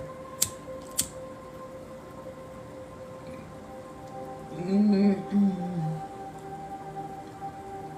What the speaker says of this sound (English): I'm going to light some Palo Santo here.